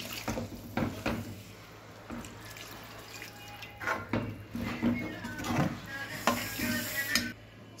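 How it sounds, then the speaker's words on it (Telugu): Water poured into an aloo tomato curry in a pan for gravy, with splashing, trickling and dripping in uneven bursts and a few light clinks of the pan, close and moderately loud with no talk. "ఇప్పుడు మనం వాటర్ పోసుకోవాలి గ్రేవీ కోసం."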